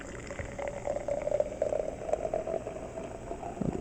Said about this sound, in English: Look at that fizziness.